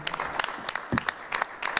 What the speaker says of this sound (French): On peut l'applaudir pour sa présentation.